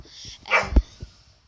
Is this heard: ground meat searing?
no